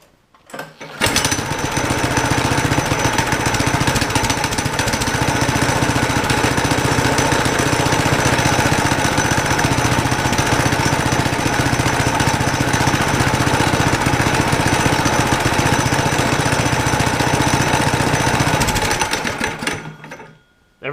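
A mini-bike engine with a freshly welded part starts up and runs at a steady, loud, buzzing pace for nearly twenty seconds close by, then cuts off.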